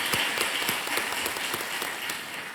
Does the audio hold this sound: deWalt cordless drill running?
no